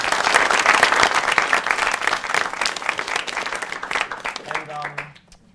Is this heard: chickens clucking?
no